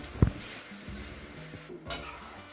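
A spoon stirs soaked puffed rice for uggani in a pan with a sharp scrape at the start, then soft quiet scraping and faint sizzling.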